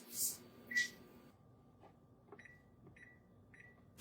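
An oven control panel beeps while a preheat is set, giving a few short electronic chirps and then a run of evenly spaced, quiet beeps in a hushed kitchen.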